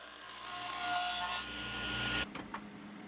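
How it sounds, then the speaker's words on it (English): A saw cuts through an offcut of Padauk hardwood with a steady rasping stroke for about two seconds, then stops and leaves a few faint clicks and knocks. "I will also cut down this Padauk"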